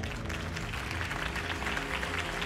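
Crowd applause in the Batman: The Telltale Series video game, faint and steady clapping that continues for the whole short stretch.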